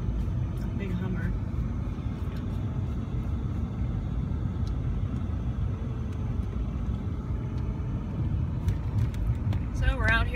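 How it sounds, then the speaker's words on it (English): Car driving on a country road heard from inside, a constant low rumbling road and engine drone throughout, with occasional faint clicks and people talking over it. "So we're out here driving in the country."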